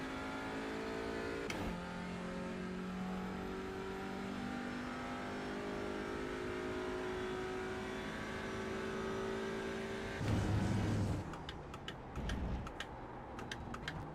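Race car engine in the iRacing video game, a loud sustained engine note changing pitch as it revs, then a sharp downshift burst with crackling pops near the end.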